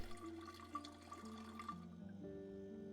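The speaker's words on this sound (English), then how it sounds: "You can fill this empty bottle," Water pours into an empty bottle in the Project Zomboid survival game, a quiet steady trickling and gurgling fill that settles toward the end, with no talking.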